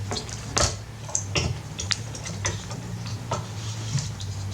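A PlayStation 2 Fat console being handled and turned over during reassembly, with a run of close plastic knocks, clicks and light taps over a steady low hum.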